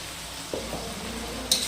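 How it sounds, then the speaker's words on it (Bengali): Spice paste for a traditional North Bengal sidol dish sautés in a pan, giving a brief, close sizzle with a stirring scrape and a sharper hiss burst at the end. "মশলাটা ভালোভাবে কষিয়ে নিব এখন"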